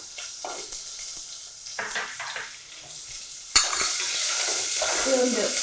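Onion frying in a pan while a spoon stirs it, with scraping and clinks at first, then a louder, steady sizzle that swells up after a few seconds, close by and with no talk.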